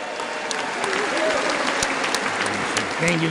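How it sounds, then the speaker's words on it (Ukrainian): Sustained applause fills the US Congress chamber as members welcome Zelensky, a dense, steady roar of many hands clapping with scattered louder claps and faint voices mixed in. "Американський конгрес зустрів Зеленського оплесками"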